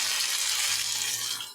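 Water pours steadily into a pan of fish curry with potatoes, a close, continuous rushing splash that tapers off at the end, with no talking.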